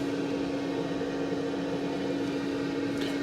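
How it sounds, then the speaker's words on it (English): A diesel heater runs inside an insulated VW Caddy Maxi van, giving a constant droning hum with a steady tonal whine, unchanging and uninterrupted from start to finish, with no voices. "you can hear a diesel heater running in the background"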